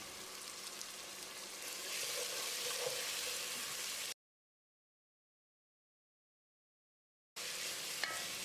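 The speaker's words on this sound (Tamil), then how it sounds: "இதோட 1/2 கப் அளவுக்கு கெட்டியான தயிர் ஊற்றி கலந்து விட்டுடலாம்." Thick yogurt is stirred into a mutton biryani masala in a pan, with a steady scraping and sizzling stir that breaks off into a few seconds of silence before resuming.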